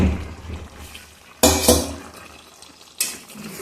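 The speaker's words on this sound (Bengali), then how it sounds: "এবার আমি আলুগুলোর মধ্যে দিয়ে দেবো" Potatoes tipped into a pot of chicken being sautéed on a home stove, a sharp clattering splash and sizzle burst near the start, then steady low cooking noise and a second clatter later.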